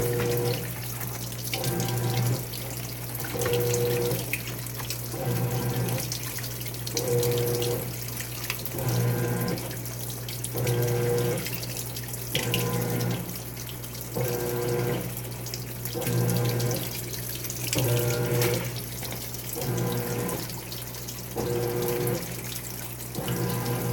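A washing machine on deep fill during a cold wash cycle, with a steady loud rush of water pouring into the drum and a low motor hum pulsing in regular repeating waves, no voices.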